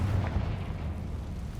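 Confringo blasting spell going off in a wizard video game, a short low muffled boom with a rumbling tail, fairly faint and on its own with no talk.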